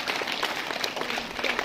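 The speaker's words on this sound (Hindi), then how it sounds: "जोरदार तालियां भाई" Audience applause at a school Independence Day ceremony, dense continuous clapping from a crowd at moderate distance, steady throughout with no speech.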